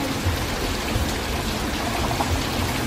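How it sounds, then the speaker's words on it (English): Heavy rain pours down steadily outdoors, a dense, continuous wash of hiss and patter close by, with no voices over it. "It's pouring down"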